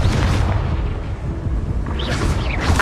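A Confringo fire spell bursts in Hogwarts Legacy on PS5, giving a loud, close booming blast with a crackling magical whoosh that swells again near the end, with no voices heard.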